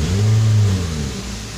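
A 2019 Toyota Vios with a hard-starting problem runs close by, its engine revving up in a loud, deep hum that swells and then settles to a steady idle, with no talking.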